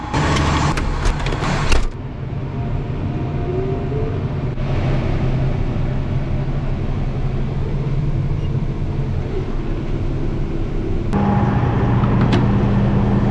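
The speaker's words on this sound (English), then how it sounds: "Got this truck staged, let's go dump." A truck drives through a muddy Iowa corn field at harvest. Its engine gives a steady, close-up rumble for most of the stretch, with clunks at the start and a shift in engine tone near the end.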